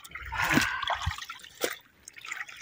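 Water splashes and sloshes while a freshly caught rohu fish is washed, with irregular bursts of splashing and trickling, close by.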